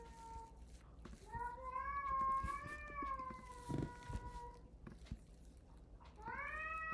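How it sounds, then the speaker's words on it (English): Cats meowing in long, drawn-out wailing calls, several overlapping cries close by, with a short pause and a renewed meow near the end. "I had to deal with some unexpected cat visitors."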